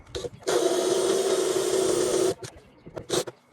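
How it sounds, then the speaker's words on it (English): A power drill whines steadily for about two seconds as a spot weld drill bit bores into a VW T25 Westfalia (Vanagon) body panel, followed by a few short scraping and clicking sounds. "with a spot weld drill bit, drill each one through, only halfway"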